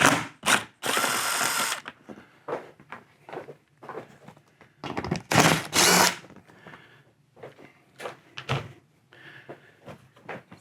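A power driver whirs in repeated short bursts, backing screws out of plastic truck panels, with ratcheting clicks and small knocks of plastic between runs, close and loud.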